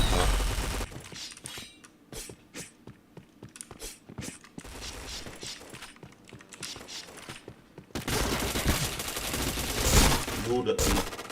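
Rapid gunfire from a video game shootout: rattling bursts of shots at a steady clip, swelling into a denser, louder barrage near the end, with voices talking over the action.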